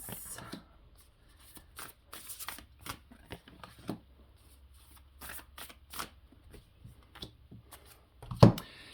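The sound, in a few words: tarot cards being shuffled and drawn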